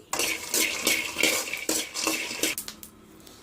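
Peanuts dry roasting in a pan over a medium flame, stirred with a utensil that scrapes and clinks against the metal in a steady rhythm of rattling, close-up scrapes that fade near the end.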